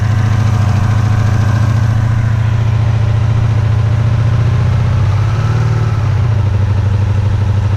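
A Honda VF500F motorcycle engine idles steadily up close, its deep even rumble loud and continuous with a faint mechanical clatter, the idle dipping and shifting slightly near the end; no one speaks.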